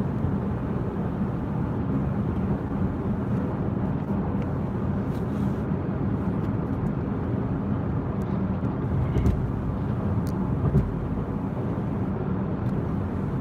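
A car driving along, its steady low road and engine rumble holding at an even level throughout, with a couple of faint brief clicks near the end and no talk.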